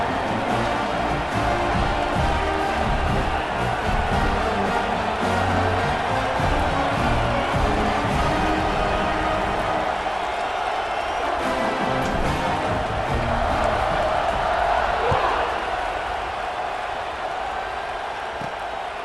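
Stadium crowd in a college football video game, Syracuse versus Penn State, after a touchdown drive: a loud, steady roar of cheering fans that runs for nearly twenty seconds and swells slightly in the second half.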